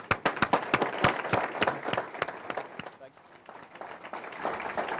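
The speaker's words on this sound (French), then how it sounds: "Vous mettez aussi une main d'applaudissement." Sparse, scattered clapping from attendees at a transit board meeting, a few distinct claps in quick succession that fade into quiet room noise, then murmuring.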